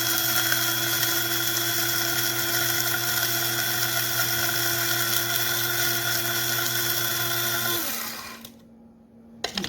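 A small electric grinder whirs steadily through Kona coffee beans, a loud close high-pitched motor hum lasting about eight seconds before it winds down and stops.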